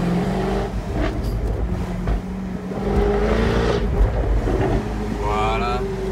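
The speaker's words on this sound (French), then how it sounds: "On va rajouter un petit peu de V8." A V8-powered car from Top Marques Monaco revs through the old town of Antibes, its engine note climbing in loud pulls over a steady low drone, with wind buffeting and a voice now and then.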